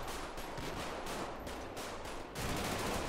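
Covering gunfire rattles through a GTA roleplay SWAT shootout video game: loud, rapid automatic bursts repeat in a steady rhythm, with no talking.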